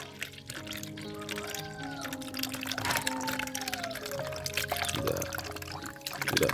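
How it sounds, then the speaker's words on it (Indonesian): Spoiled milk is poured from a one-litre carton in a steady, gurgling stream lasting several seconds, close and fairly quiet, with faint trickling and no speech over it. "Ini akan saya tuangkan ya. Jadi ini memang sudah basi."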